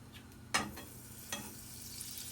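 A sandwich fries in fresh butter in a pan, giving a soft continuous sizzle, with two scraping stirs as it is moved around, the first louder than the second.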